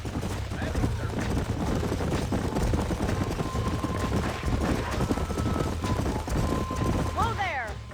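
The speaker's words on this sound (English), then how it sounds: "These are fine horses." Horses' hooves clip-clop steadily on the ground in the Western video game Red Dead Redemption, under continuous game ambience and background talk, with a short whinny near the end.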